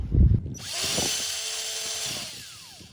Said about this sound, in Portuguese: fazer o primeiro furo